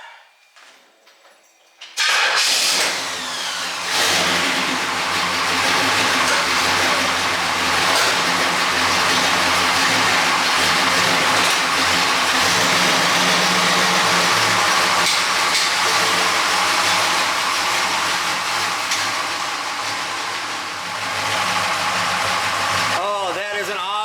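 A car engine runs steadily after a rattle was traced to one component and repaired, a close, even drone that holds for about twenty seconds with little variation.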